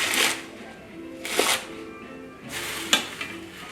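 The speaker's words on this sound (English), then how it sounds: "Just gonna give them a quick chop." A knife quickly chops fresh organic spinach on a cutting board, making three bursts of crisp rapid cuts separated by short pauses, fairly close.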